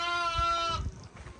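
A black lamb with a white head, in a village farmyard, gives a single close, loud bleat that breaks off into a wavering tail, followed by faint rustling.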